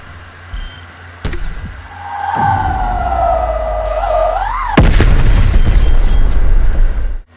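A spawn tube shot in Black Ops Cold War on the Diesel map: a rising whistling tone swells for a few seconds, then a loud broadband explosion bursts out and rumbles on until the clip ends.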